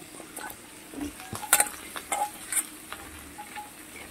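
Eggplant pieces fry in a pan alongside potato and radish for a spinach ghonto, soft sizzling under a scattering of sharp utensil taps and stirring clicks, fairly close, no talk.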